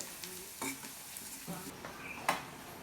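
Turmeric and chili powder are stirred into a bitter gourd and prawn curry, with a faint sizzle under scattered spatula scrapes and light clinks against the pan, quiet and close.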